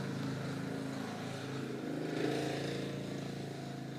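A motorcycle engine drones steadily as it passes by, swelling briefly louder midway before settling back into a continuous rumble.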